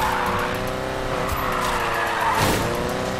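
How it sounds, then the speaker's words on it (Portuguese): A drifting Volkswagen Fusca in Need for Speed Payback gives a continuous, loud tire skid over a straining engine, sustained for the whole moment without any talking. "o drift do moleque aqui tá bom"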